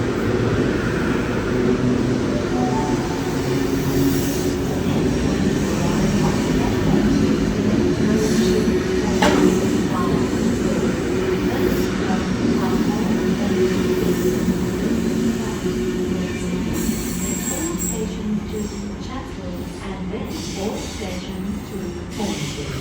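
A Sydney Trains K set running at Central station, a loud continuous rumble of wheels and motors with squealing and clicking on the rails, a station announcement and voices faintly mixed in throughout.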